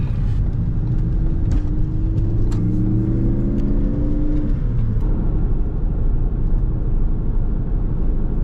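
A car cruises along the interstate with a loud, steady road rumble and tyre roar, while a passing engine note rises and falls midway.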